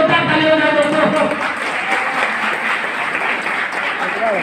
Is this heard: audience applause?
yes